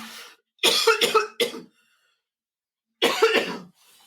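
Several sharp coughs close up, a quick cluster of three followed by a pause and one more harsh cough.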